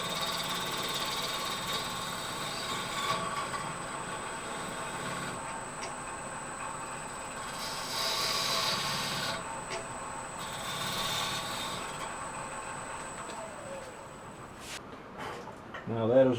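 A woodturning tool trues the recess of a bowl that sat overnight, spinning on a lathe with a slight bounce. A steady motor hum runs throughout, with rougher bursts of cutting noise rising midway.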